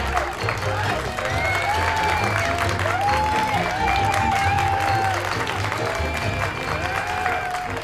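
A stage-show audience bursts into sustained clapping, with several shrill rising whistles cutting through the steady applause, performed as an audio-story sound effect.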